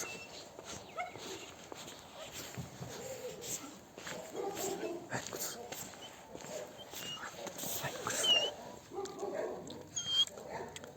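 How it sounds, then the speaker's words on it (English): An excited dog whimpers and yips indoors behind a door, with faint high whines heard among footsteps and outdoor walking noise, while a person talks nearby. "You can hear him like whimpering."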